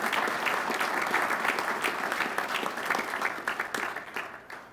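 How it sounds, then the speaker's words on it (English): A round of applause from the audience at a United States Army oath of service ceremony, dense and sustained clapping that stays full and then thins slightly toward the end. "I would like to give a round of applause to these fine people."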